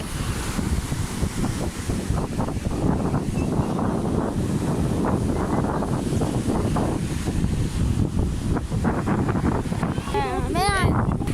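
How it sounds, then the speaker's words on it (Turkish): Strong wind roars across the microphone over the steady wash of rough sea waves at Kumla, Gemlik, with faint voices underneath and a brief bird-like chirp near the end. "Denize bakın. Çok dalgalı."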